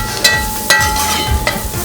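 Food sautéing in a pan, a steady close sizzle with a few stirring scrapes and clatters spread through the short stretch, no voices.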